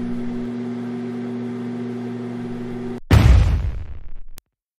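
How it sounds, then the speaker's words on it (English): A microwave oven with grapes inside hums steadily with a low mains drone, then a sudden loud bang erupts into a burst of crackling noise that decays over about a second before cutting off. "The microwave just blew up."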